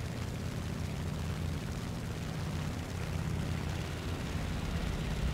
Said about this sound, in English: Diving on a Spitfire.